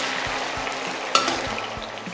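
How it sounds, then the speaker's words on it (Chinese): Sweet and sour sauce simmers around pan-fried sea bass, a steady close sizzle and bubbling with soft spoon clinks and a brief scrape partway through. "边煮边浇汁。"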